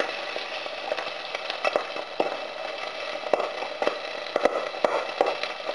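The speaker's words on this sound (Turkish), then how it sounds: "Ateşi aldıkça sucuğun içindeki bazı şeyler duyduğunuz o patlama seslerini veriyor." Irregular sharp pops and crackles burst over a continuous sizzling hiss as sucuk sausage fries in a hot pan for eggs; no one speaks.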